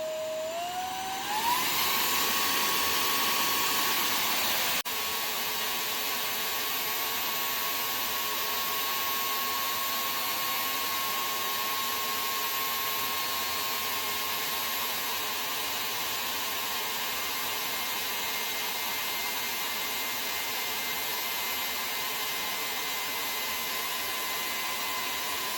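An Oraimo S2 cordless vacuum cleaner runs on its highest mode, spinning up in the first seconds and then holding a steady, loud high-pitched whine and airflow hiss without pause.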